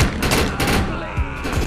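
Gunfire in the video game Defiance cracks in a quick rapid burst of several close shots, loud and clustered, over a short noisy stretch.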